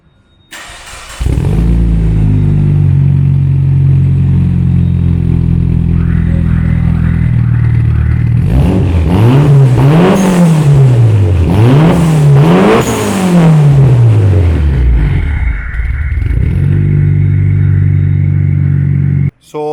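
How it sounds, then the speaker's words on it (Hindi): A Mitsubishi Evo 8 Special Edition with an original Rogue R aftermarket exhaust idles loudly, then revs hard in several sharp, rising-and-falling blips before settling back to a steady idle, close and alone. "ये ओरिजिनल रोगू एंड आर का एग्जॉस्ट सिस्टम इसको लगा हुआ है, जिसकी साउंड आपको मैं अभी 1 मिनट में सुनवाता हूँ।"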